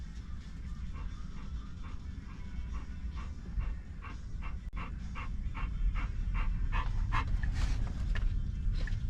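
Dogs panting steadily and rapidly, close by, with faint whimpers mixed in over a continuous low rumble of road or vehicle noise.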